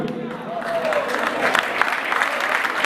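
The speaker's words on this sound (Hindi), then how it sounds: "इनका जोरदार तालियों से आप स्वागत करें।" A crowd at a Jain devotional gathering applauds the general secretary, steady clapping rising in intensity after a voice trails off at the start.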